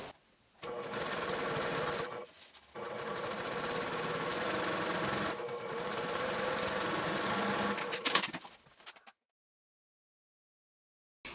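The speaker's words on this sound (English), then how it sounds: "you're going to sew along the seam with 1/8 inch seam allowance" A sewing machine top stitches along a bag seam at a lengthened 3 mm stitch, whirring steadily in three long runs with brief pauses, ending with a clatter and then silence.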